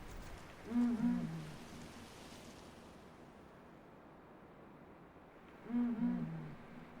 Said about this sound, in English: Blakistons fish owl.